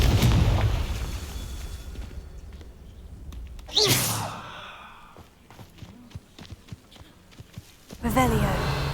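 Confringo blasting spell going off in the video game Hogwarts Legacy: a loud booming burst rises sharply midway and decays, with a second blast at the end, over a rumbling game background and a voice speaking between them.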